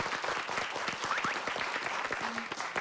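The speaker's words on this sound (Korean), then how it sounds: "박수 보내주십시오" A television studio audience applauds a guest expert, producing a thick, lively burst of clapping with a few brief tonal squeaks and voice sounds scattered across it.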